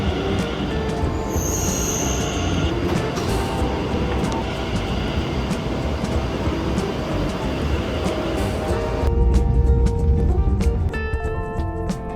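Passenger train in Taiwan bound for Taroko Gorge, a continuous loud rumble of wheels on rails with high metallic squeals cutting in and out, heavier clattering toward the end, no talking.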